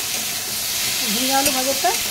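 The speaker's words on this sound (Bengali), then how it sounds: "বাড়িয়ে ভালো করে একটু নেড়ে চেড়ে ভেজে নেব।" Ridge gourd and potato fry over a high gas flame while being stirred, producing a continuous close sizzle with scraping stir noises and a faint tonal voice-like sound underneath.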